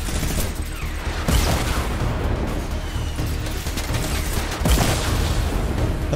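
Gunfire from a minigun in the Fortnite video game, a dense continuous rattle of rapid shots with a few louder impacts, loud and sustained across the whole stretch with no talk.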